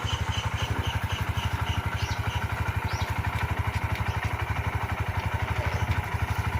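A motorcycle engine runs with a steady, throbbing low chug while the rider slowly lets out the clutch during a gear change. The engine is close and loud, with a faint clatter over it.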